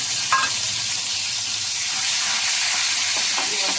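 Tomatoes frying in mustard oil, a loud close steady sizzle with hiss throughout and a few stirring scrapes and clicks.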